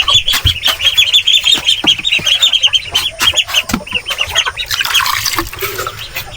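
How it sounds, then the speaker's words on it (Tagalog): Small chicks on a Philippine farm peep in a rapid, continuous high chorus, loud and close, with occasional clucks and scuffling thumps mixed in. "Dito yung mga chikiting natin, yung mga maliit."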